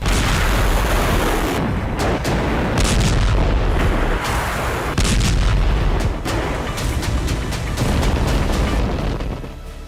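Heavy gunfire and artillery between the IDF and Hamas in the Gaza war rumble as loud, dense, continuous blasts and bursts, with no talk.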